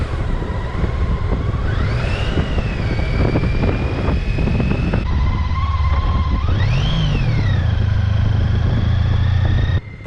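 A motorcycle ridden along a rough mountain road in Sonora drones loudly and close, its engine pitch rising and falling through shifts and throttle changes, with wind buffeting the microphone throughout.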